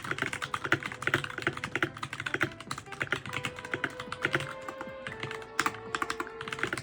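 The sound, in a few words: computer keyboard typing before tape mod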